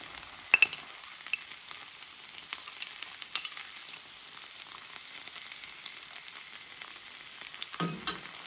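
Beef stir fry sizzles in a pan with chili oil just added: a soft, steady hiss broken by a few sharp crackles and pops, with no voices.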